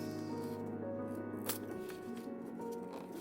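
Paper is cut with scissors for a butterfly journal in a quiet room, producing a few short crisp snips and rustles.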